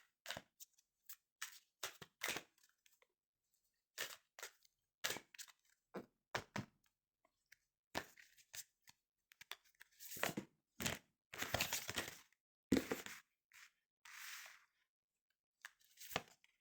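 Fortune-telling cards are shuffled by hand in a quiet room, producing repeated short dry riffles and snaps in irregular bursts, close and fairly soft.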